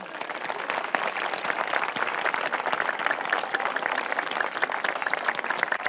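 An audience at a folk dance festival claps steadily for a dancer, a dense, even wash of applause throughout with a faint murmur of voices.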